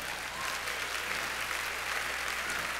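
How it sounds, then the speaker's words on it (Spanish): Congregation applause at an apostolic church service, a steady dense wash of many hands clapping throughout, moderately distant and even in level, with no voices rising above it. "Dale un aplauso más grande"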